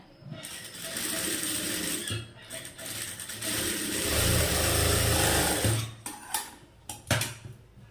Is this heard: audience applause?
no